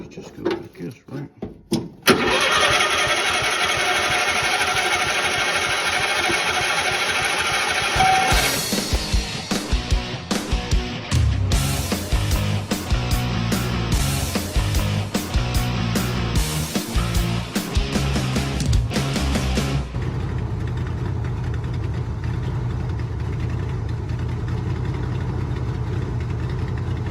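A Jacobsen cart engine, unused for about a year, is cranked and fires up with choke, then settles into a loud, uneven running idle with revving surges, close by.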